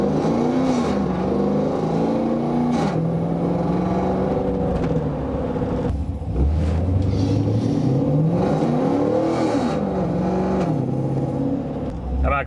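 An LTx-swapped Pontiac Trans Am with a 6L80e transmission drives along, its V8 exhaust droning and rising in pitch as it accelerates, with voices talking inside the car over the engine.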